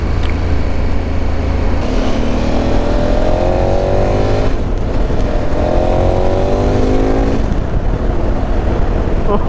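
A KTM Super Adventure 1290 motorcycle engine drones steadily while being ridden, with two rising revs as it accelerates through the gears, under constant wind noise and no speech.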